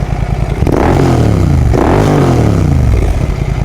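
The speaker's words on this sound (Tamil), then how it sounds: "இந்த வண்டியில் எக்ஸாஸ்ட் போட்டிருக்காங்கடா. அது சவுண்ட் எப்படி இருக்குன்னு பார்க்குறியா?" A Royal Enfield GT650-style twin motorcycle fitted with a modified exhaust revs hard twice, with loud, rising and falling engine roars close by, no talking.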